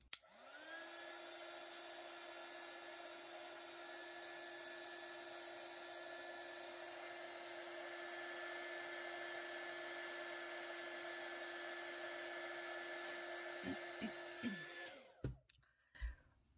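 Heat tool or hair dryer drying distress oxide ink on card, a steady close whining hum running without a break for about fifteen seconds before switching off, followed by a few clicks and knocks.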